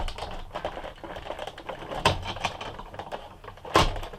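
A die-cutting embossing machine cranked by hand through a cutting-pad sandwich with black cardstock, giving a close, uneven run of ratcheting clicks and two louder clunks.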